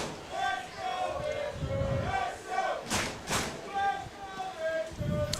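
A cheering section in the crowd at a baseball game at Fergie Jenkins Field, voices rising and falling in repeated rhythmic swells of chanting and shouts, with a couple of sharp bursts, mixed with announcer talk.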